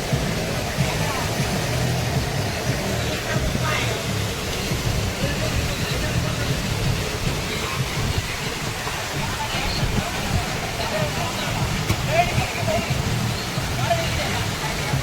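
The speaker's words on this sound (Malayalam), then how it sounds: "ഈ കാണുന്നതാണ് മലമ്പുഴയിലെ ഏറ്റവും വലിയ വെള്ളച്ചാട്ടം." A large monsoon waterfall at Malampuzha roars in a continuous, full rushing wash of water, steady and close throughout.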